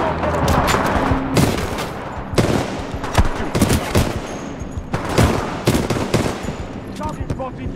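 Automatic rifle fire in Titanfall 2, shown as loud rapid bursts repeated through the scene over constant game ambience and effects. The weapon is an R-201 or I-97.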